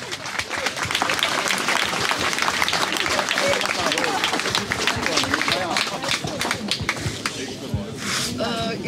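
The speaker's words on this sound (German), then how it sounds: "Bitte auch hier noch einmal einen großen Applaus für diese junge Bürgerin." Crowd applause at an outdoor street demonstration for peace and social justice, a dense continuous patter of many hands that holds steady at full strength for about nine seconds, close and loud with a few cheers mixed in.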